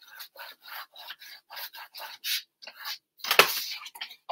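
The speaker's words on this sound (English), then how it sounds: "So let's give this a good burnish." A burnishing tool rubs over folded paper for a lavender farm album, producing a rapid series of short, dry scraping strokes close up, followed by a louder crinkle and a few final rubs.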